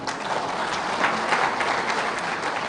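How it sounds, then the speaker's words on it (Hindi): Steady dense applause from a large crowd at a political rally in Ranchi, continuous and fairly loud throughout with no clear voices over it. "और इसलिए एक बार ताली बजाओ पोलिंग एजेंट के लिए भी"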